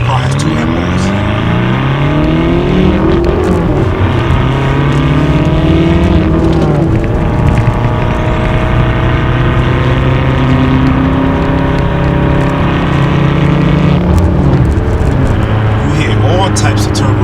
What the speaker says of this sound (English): You hear the intake in the front. When the wastegate opens up, that thing just totally just dumps.